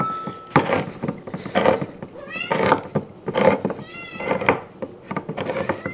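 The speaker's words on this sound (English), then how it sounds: "What are you doing, cat? This is not for you, this is for me." A cat meows repeatedly in a kitchen during cooking, several drawn-out, close meows spread across the clip over faint background clatter.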